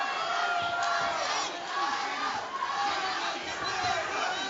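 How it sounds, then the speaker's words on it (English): A large crowd at an MMA fight roars and chants continuously in an arena, a dense, steady wall of cheering and shouting that never drops out. "The crowd trying to rally behind Jimmy Fowler to bring it home in the final minutes."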